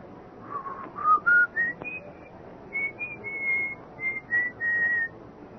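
A person whistling an old tune at night, a clear melodic line of sustained and rising notes with short breaks between phrases, close and alone without talk.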